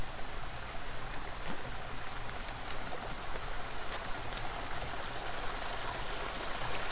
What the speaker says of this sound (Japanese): 道が分かれる三叉路に来て、水音が高くなってきました